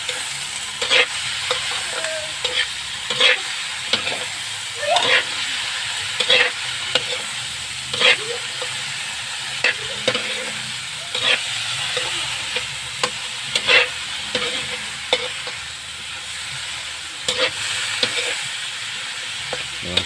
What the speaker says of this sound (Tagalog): halo na natin